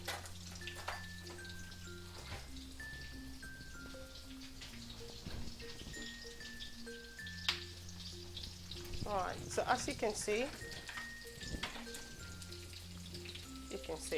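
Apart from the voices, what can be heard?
onion sizzling in frying pan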